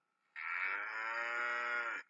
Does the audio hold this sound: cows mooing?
yes